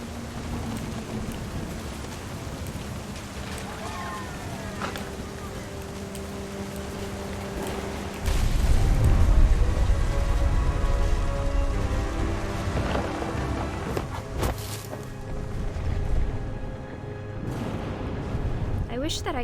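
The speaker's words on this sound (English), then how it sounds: "The thunder sounded much too close and full of angry power." Thunder and steady rain in a video game, a continuous wash of rainfall with a heavier low rumble swelling in about halfway through and lingering, with voices faintly underneath.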